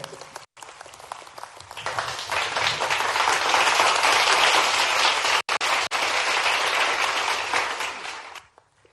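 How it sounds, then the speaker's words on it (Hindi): A conference audience at the MP Tech Growth Conclave in Indore's Brilliant Convention Centre bursts into loud, sustained clapping. It builds over the first two seconds, holds steady with a couple of brief breaks, then fades out. "चलिए सब जोरदार ताली बजाइए इंदौर के लिए"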